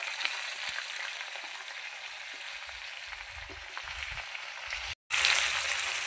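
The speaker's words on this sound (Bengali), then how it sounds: "আলুগুলো আমি লাল লাল করে ভেজে নেব।" Potatoes fry in a pan for a rohu fish curry, a steady, moderately quiet sizzle with light crackle and occasional low thumps, cutting out briefly near the end before resuming.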